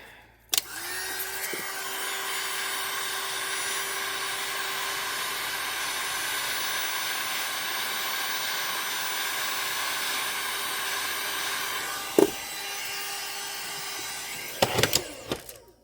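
A heat gun or hair dryer blows hot air onto a resin turtle mold, a steady whirring hum with a high whine that runs for about twelve seconds, then cuts off, followed by a few clicks.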